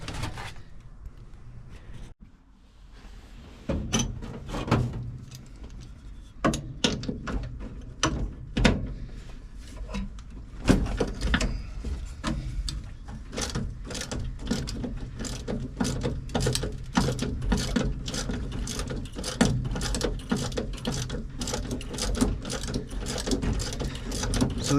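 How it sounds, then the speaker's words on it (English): Ratchet wrench loosening the bolts and nuts on a car wheel to get at the brakes, a steady run of quick clicking pawl strokes with short pauses, close and loud, with no talk. "looks like there are bolts and nuts right here. So let's get to loosen them."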